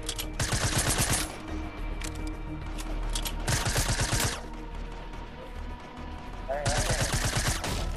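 Automated sentry gun in a video game fires in three loud, sustained bursts of rapid shots separated by short pauses, with a faint background hum between volleys.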